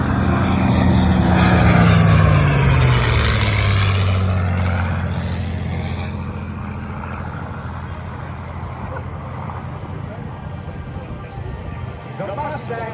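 Propeller fighters, a Corsair and a P-51 Mustang, roar past at an airshow at Willow Run Airport, a loud engine drone with a falling pitch sweep as one passes, fading into a steady distant hum.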